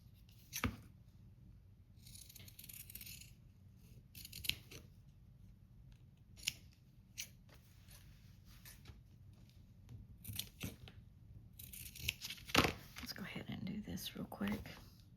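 Scissors snip through paper during a papercraft session, several sharp, close cuts scattered among quiet rustling and handling noise, with faint whispered talk in places.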